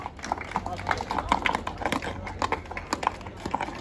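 Horses clip-clop past in an irregular patter of hoof strikes at a beach festival with a horse beauty contest on Lesvos, partly masked by an announcer speaking over a loudspeaker.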